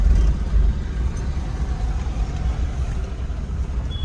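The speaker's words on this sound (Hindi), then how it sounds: "ये रास्ता खराब है तो मैं अपना फर्स्ट ही गियर रखूंगी, अभी आगे नहीं बढ़ाऊंगी गियर को।" A car crawls in first gear over a bad road, its engine giving a steady, loud low rumble with constant road noise and no talking.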